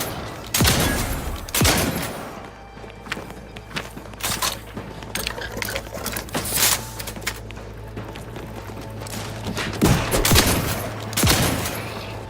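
Gunfire in the video game The Outer Worlds 2: repeated sharp shots in irregular bursts, some loud and close, with quieter gaps and a low steady hum underneath.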